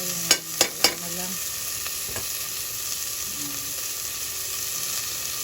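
Ginger sautéing in a pan for chicken tinola, a continuous oily sizzle opened by three quick metallic clanks of a utensil against the pan, then steady frying alone.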